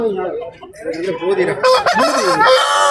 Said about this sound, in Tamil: அருமையான பெருவற்ற சேவல் ஒன்று வந்திருக்காங்க